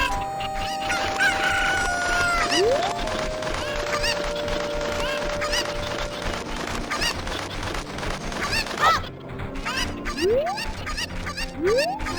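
Cuckoo chickens in Zelda: Ocarina of Time's Kakariko Village cluck and squawk repeatedly amid upbeat village music, with rising chirpy calls recurring near the end.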